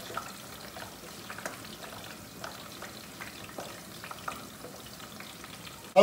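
Spices with salt and cumin frying in a pan, a soft continuous sizzle with faint stirring ticks throughout, close and without talk, and a brief louder rustle at the very end.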